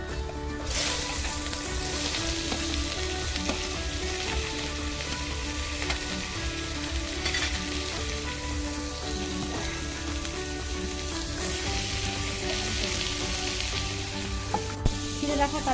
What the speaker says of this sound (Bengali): আর দারচিনি দিয়ে নেব জল তুলে আর এই যে কুচিয়ে রাখা পেঁয়াজ দিয়ে দেবো